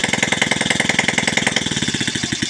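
A motorcycle engine, rigged for a clutch-hub repair and running on a bulb with no regulator or battery, putters in a rapid, even chugging rhythm of close, loud firing pulses, alone without talk.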